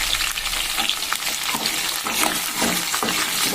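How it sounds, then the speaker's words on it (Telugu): Onions frying in a pan for Rayalaseema-style sambar, with a dense, steady sizzle and crackle broken by scraping stirs, close and continuous. "కాస్త బాగా దోరగా వేగిన తర్వాత నెక్స్ట్ కట్ చేసి ఉంచుకున్న ఉల్లిపాయలు"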